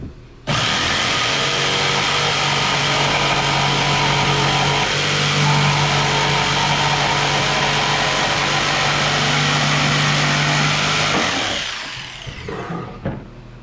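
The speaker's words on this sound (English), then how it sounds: "going to finish off the notch with a jigsaw" A jigsaw cuts a notch into a 2x4 for a heavy-duty workbench, a loud steady buzzing motor drone running continuously for about eleven seconds before winding down and stopping, with no talking.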